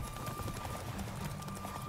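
Horse hooves in The Witcher 3 video game keep a quiet, steady galloping clip-clop under a constant background wash of game ambience.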